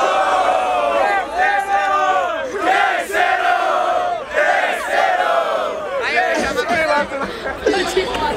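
A rap battle audience at Batalha da Aldeia in Barueri, São Paulo, roars, shouts and cheers in loud repeated surges, with a crowd chanting together and chatter mixed in.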